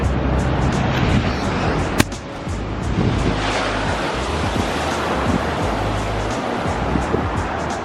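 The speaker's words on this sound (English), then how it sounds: "These waves right now are massive." Large ocean waves crash and roll continuously along Malibu beach on the California coast, a loud, broad wash of surf with wind buffeting the microphone and one sharp knock near the two-second mark.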